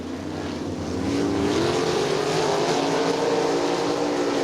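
410 sprint cars race around Crystal Motor Speedway in Michigan, a dense, steady engine roar that swells after the first second and holds loud and continuous as the pack passes under green.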